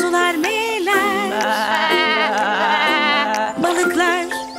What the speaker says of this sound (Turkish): Kuzular meyler.